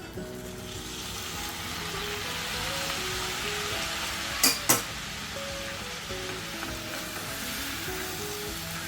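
Rice being sautéed in ground spice masala in a pan for ivy gourd rice, a constant soft sizzle close by, with two brief sharp metallic knocks midway.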